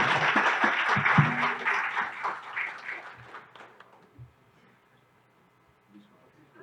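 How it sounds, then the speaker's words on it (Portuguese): Audience applause at a seminar session, a dense burst of clapping for the first few seconds that thins out and fades by about four seconds, leaving quiet room noise. "Uma salva de palmas, por gentileza."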